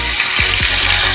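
Slit green chillies dropped into hot oil with whole cumin, a loud, close, continuous hissing sizzle with a couple of brief low splashes as they hit the pan.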